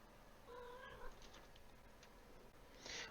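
A house cat meows faintly indoors, a short wavering cry followed by a brighter, higher meow near the end, with quiet background noise.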